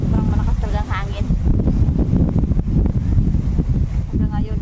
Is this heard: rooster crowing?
no